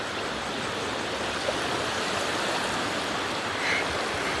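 Steady wash of sea waves on a beach at Rayong at night, a continuous broadband surf roar with no distinct breaks, even and moderately loud throughout.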